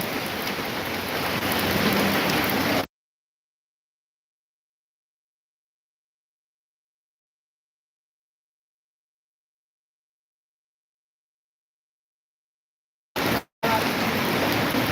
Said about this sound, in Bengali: বৃষ্টি হচ্ছে প্রচুর বৃষ্টি